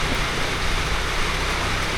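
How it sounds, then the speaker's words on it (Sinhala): Heavy rain pours near Ruwanwella, Sri Lanka, a loud, steady, dense hiss that fills the whole stretch without a break or any voices. "මාර වැස්ස උත් වයින්නේ"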